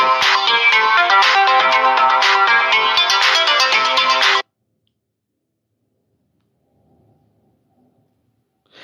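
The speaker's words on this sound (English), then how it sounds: "Sorry, my phone was ringing." A mobile phone ringtone plays loud and close as a repeating melodic pattern for about four seconds, then stops abruptly, leaving near silence.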